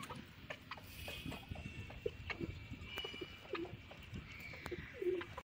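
Pigeons coo in an outdoor aviary set on a rooftop water tank during rain, low soft calls repeating at close range over a steady background of light patter and rustle.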